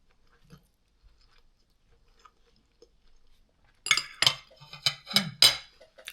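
A spoon clinks and scrapes against a bowl of meatball soup with mustard greens, several sharp close clatters in a quick cluster after a stretch of near silence, with faint chewing sounds earlier.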